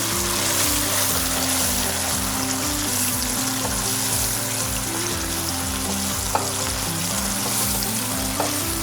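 Chili bean paste and ketchup sauce stir-fry in hot oil with a steady, loud sizzle throughout, broken by a few faint clinks of the utensil against the pan.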